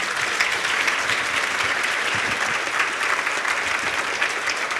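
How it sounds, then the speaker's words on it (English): Sustained applause from the audience at a women in business breakfast, a dense, steady wash of many hands clapping at even loudness throughout, with no speech over it. "can we give a round of applause to these amazing women?"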